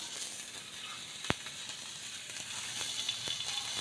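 Bacon-wrapped enoki mushrooms fry in a pan without added oil, giving a steady, fairly quiet sizzle with a sharp clack partway through and occasional soft crackles.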